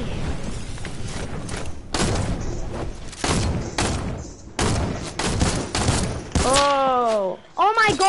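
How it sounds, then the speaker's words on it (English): Gunfire and explosions crack and boom in a shooter game, loud bursts of shots and blasts arriving in clusters close up, with players talking through voice chat amid the chaos. "Oh my god, stop exploding people, bro."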